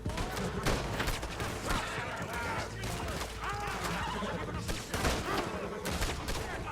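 Rolling Block rifle shots in Red Dead Redemption boom in loud, sharp bursts, several cracks over a few seconds with echoing tails, layered with game background noise.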